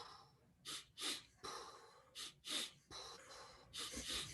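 Sharp nasal sniffing breaths in a breathwork exercise, a quick double sniff then a longer exhale, repeated in an even cycle, close and soft with no talk.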